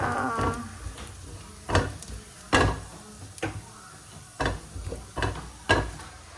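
Japchae is stir-fried in a pan, with soft sizzling under a series of scraping, knocking strokes of a spatula against the pan, heard up close with no talk.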